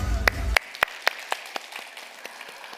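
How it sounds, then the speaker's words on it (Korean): Scattered handclaps ring out at a church retreat. After a brief low sound, several sharp, separate claps follow and fade over a few seconds. "우리 박수 한번."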